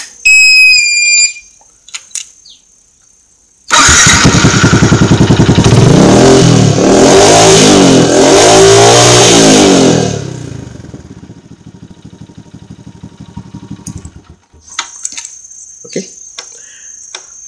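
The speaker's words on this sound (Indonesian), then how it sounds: "Tekan on dan start motor." Yamaha LC135 motorcycle engine started after faint beeps, catching with a loud steady run that lasts several seconds, then dropping to a quieter idle with scattered clicks near the end.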